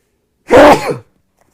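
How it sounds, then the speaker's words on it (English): A single sharp sneeze, close and loud, surrounded by silence. "Sneeze not required"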